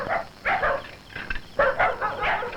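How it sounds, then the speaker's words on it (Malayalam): Dogs barking and yelping in short bursts, several loud barks spread unevenly, fairly close. "നായ്ക്കള് കുറിക്കുന്നു."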